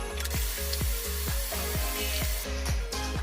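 A food processor blending whole rolled oats into flour, its motor whirring loudly and steadily with a regular pulsing churn as the oats are thrown around the bowl, with no talk.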